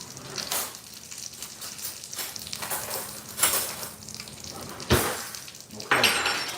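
Salmon fillet frying skin-side in a hot pan, a steady crackling sizzle with sharp pops and spits bursting out every second or so, close and fairly loud, no talking.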